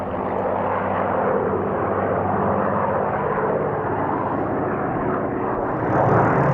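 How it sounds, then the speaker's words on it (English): A Griffon-engined Spitfire flies over the Duxford airshow, its piston engine a loud, continuous deep roar that holds steady and swells slightly toward the end. "This display shows how the performance of the Spitfire improved once the Griffon engines were fitted."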